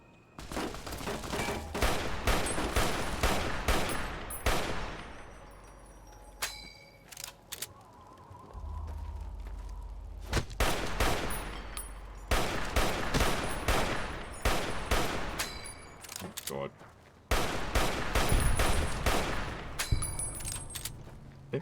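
Automatic gunfire in Fallout New Vegas comes in rapid clattering bursts over about twenty seconds, broken by short pauses, with metallic clangs and pings mixed in.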